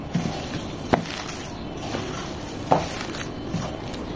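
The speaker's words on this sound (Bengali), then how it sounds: "খুব ভালোভাবে মিশিয়ে নেব।" Beef pakora mixture being mixed by hand, soft wet squelching with a few sharper clicks against the bowl, close and fairly quiet.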